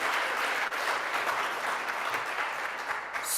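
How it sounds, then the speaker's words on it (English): Steady applause from a crowd at a Rotary Club meeting, dense and even clapping filling the room for a few seconds without talk. "Let's give them a round of applause."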